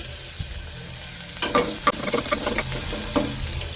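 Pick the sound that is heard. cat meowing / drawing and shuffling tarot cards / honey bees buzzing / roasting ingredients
roasting ingredients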